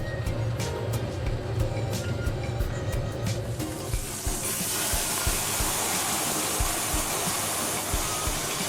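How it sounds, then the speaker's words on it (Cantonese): Soup is ladled a little at a time onto a pan-fried fish head over high heat, setting off a loud rushing steam hiss that swells and holds after a few sharp clicks at the start. "就滗啲湯落去個魚頭度"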